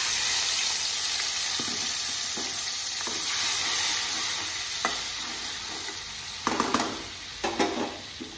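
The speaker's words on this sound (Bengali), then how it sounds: "ফোড়নটা ভাজা ভাজা হয়ে যাওয়ার পরে এইবার আমি হলুদ গুঁড়ো, জিরে গুঁড়ো জলে ভিজিয়ে রেখেছিলাম সেটা দিয়ে দেব।" Tempering spices in a wok take in a paste of turmeric and cumin powder soaked in water, hissing and sizzling steadily while a spatula scrapes and stirs, ending in a few louder sputters.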